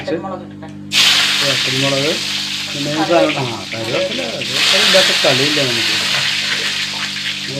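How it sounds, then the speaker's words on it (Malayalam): Mustard seeds splutter and crackle in hot oil, a loud, close frying hiss that swells twice, while a person talks over it. "കടുക് പൊട്ടുണ്ട്"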